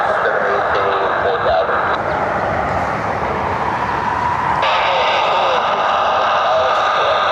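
Delta Connection CRJ jet at Cleveland Hopkins airport, a loud continuous engine roar and whine that shifts in pitch partway through, heard from nearby and alone.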